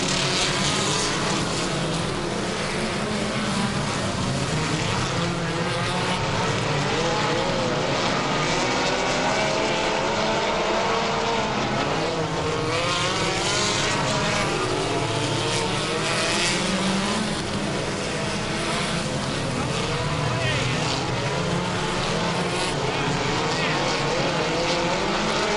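Dirt midget race cars roar around a track in a constant, loud, droning engine blur, with a commentator talking over the racing throughout.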